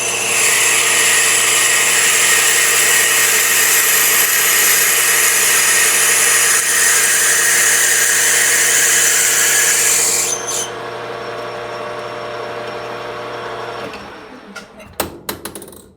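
A letter X drill bit cuts into a 1971 Honda CB750 motorcycle carburetor in a machine-shop setup, a loud steady high whine running for about ten seconds before winding down, followed by a few metallic clicks.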